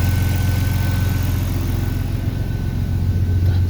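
A cold BMW M50 car engine idles steadily at about 1,000 rpm, a continuous, even rumble with a rhythmic low throb and no other sounds.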